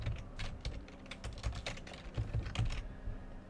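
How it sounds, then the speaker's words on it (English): Close, steady typing on a computer keyboard, a quick run of clicking keystrokes with short pauses between bursts, heard on its own. "I'm just going to type trigger"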